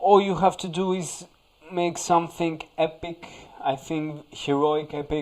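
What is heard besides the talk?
No everyday noise stands out behind the speech.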